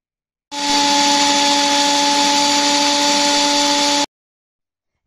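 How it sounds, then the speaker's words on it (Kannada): A kitchen mixer grinder blends jackfruit pulp into a smooth paste: the motor starts abruptly, holds a loud, steady whining drone for about three and a half seconds, then cuts off, with no talk. "ಈಗ ಇದನ್ನು ಮಿಕ್ಸರ್ಗೆ ಹಾಕಿ ನೈಸಾಗಿ ಈಗ ರುಬ್ಕೊಂಡು ಬರೋಣ"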